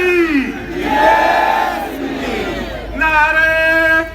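Crowd at a political opposition protest rally in Karachi chanting slogans back in unison, loud massed voices rising in two long surges, the second after a brief lull.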